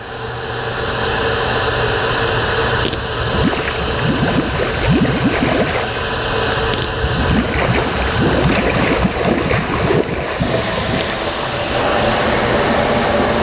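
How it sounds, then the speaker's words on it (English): Water bubbles from a pool's bottom jet while the pool is being closed, a continuous rushing, gurgling churn with a steady mechanical hum beneath, loud and close, with no talk. "Now the bottom jet's bubbling."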